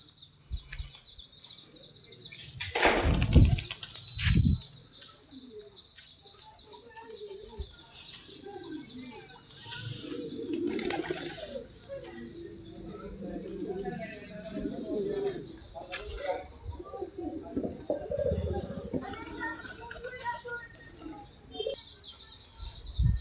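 Ordinary and crested pigeons flying during training sessions give scattered coos and chirps, with bursts of flapping wings close by, while someone speaks intermittently over a high, steady background whine.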